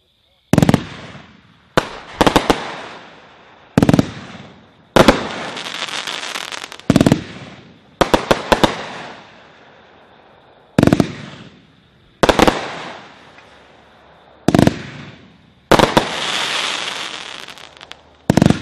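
A Daisy Cutter firework cake fires from its tubes in about a dozen loud sharp bursts at uneven intervals, each followed by crackling and hissing decay, heard from nearby outdoors.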